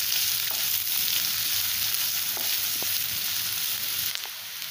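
Chopped onions fry in a pan for soya chunk pulao, a constant close hissing sizzle with a few faint stirring clicks.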